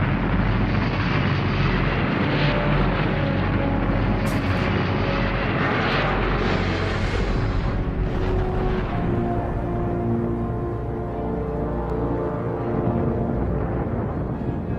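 A rocket engine ignites and the launch vehicle lifts off with a loud, continuous, rumbling roar that stays steady and dense for the whole stretch, with no voices over it.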